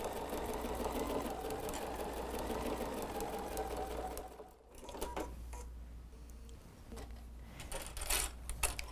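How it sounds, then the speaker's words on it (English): A sewing machine straight-stitches a quarter-inch seam through a drying mat built with Bosal Sew-In foam form, whirring steadily and close up with faint clicks and rustles mixed in. "Make sure you're off that zigzag stitch back to a straight stitch, and we'll be stitching now a 1/4 inch"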